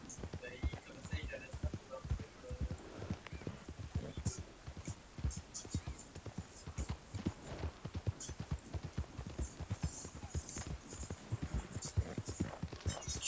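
Steady clip-clop of horse hooves trotting in the open-world western game Red Dead Redemption 2, a rapid even rhythm close by, with someone talking over it throughout.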